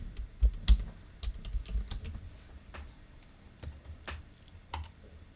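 Typing a file name on a computer keyboard, scattered close key taps in short bursts with gaps, fairly quiet, no speech.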